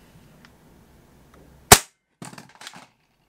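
Tokyo Marui USP9 full-size gas airsoft pistol fires a single sharp, loud crack, followed about half a second later by a short burst of clattering handling noise, with quiet surroundings before.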